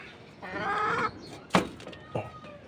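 Silkie hens cluck softly nearby while being fed layer feed, a few short murmuring clucks with a sharp clatter in between, no talk.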